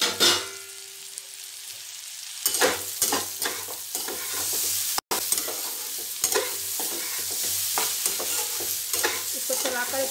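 Raw green papaya bhujia stirred in a frying pan, a steady sizzle broken by repeated scraping strokes of a spoon across the pan, close and fairly loud.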